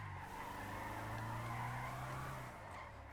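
Tires skid and squeal steadily as a car drifts in GTA, a sustained screech over a droning engine, fairly loud and close with no talk.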